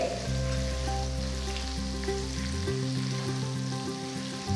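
Curry leaves sizzling in hot oil for idli sambar as they are stirred once, a continuous close crackling hiss throughout.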